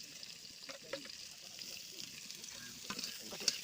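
Onions frying in mustard or refined oil while a fish dish is cooked, giving a steady close sizzle with occasional stirring scrapes and small pops throughout.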